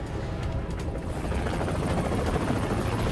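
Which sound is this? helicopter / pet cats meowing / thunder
helicopter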